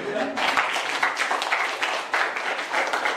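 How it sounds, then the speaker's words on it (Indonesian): A classroom audience claps for a student group, a dense, brief patter of applause lasting about three seconds, with a voice partly over it. "Silakan, tepuk tangan dulu."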